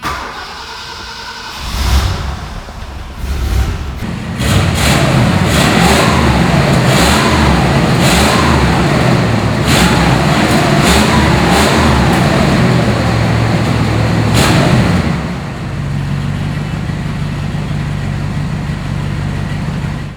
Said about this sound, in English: So let me fire it up for you so you can hear what it sounds like.